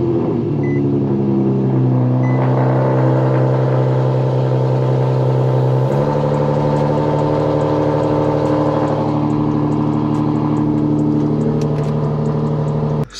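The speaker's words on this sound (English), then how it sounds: "Cold start." An Infiniti G37 sedan engine fires up from cold and settles into a steady, loud, close idle with a strong low rumble and a slight pitch change partway through, no talking.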